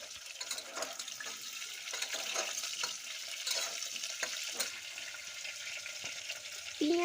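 Cut potatoes fry in oil in a pressure cooker with bay leaves, dried red chillies and five-spice seeds, a soft steady sizzle with stirring scrapes, close and fairly quiet, no talking.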